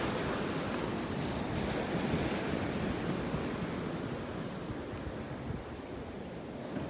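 Ocean surf rolls steadily onto a mile-long natural beach at Delnor-Wiggins Pass State Park in North Naples, Florida, a continuous broad wash of breaking waves with some wind rumble on the microphone.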